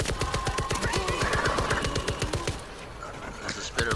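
Rapid automatic gunfire rattles in a dense, rhythmic burst in the World War Z video game, loud and close, thinning out toward the end.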